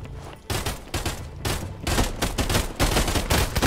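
Enemy players in a VR battle royale, Contractors Showdown, fire on the team, producing dense, rapid bursts of gunfire that go on throughout, loud and sharp with brief gaps between volleys.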